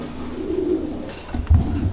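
A fancy pigeon at a pigeon farm gives a low, soft, rolling coo close by, then a short burst of fluttering and a deeper thump, with no talking.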